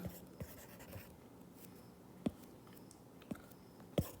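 Marker or chalk writing on a board during a partnership accounts class, soft scratchy strokes with a few sharp taps from the pen against the board, close but quiet, with no talking.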